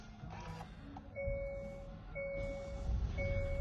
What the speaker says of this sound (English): let me turn on the vehicle first.